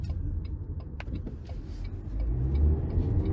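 A 2023 Toyota Highlander Limited Turbo AWD, in sport mode with manual shifting, pulls hard out of a corner. The low cabin engine rumble swells and grows louder in the second half, with a few faint ticks over it.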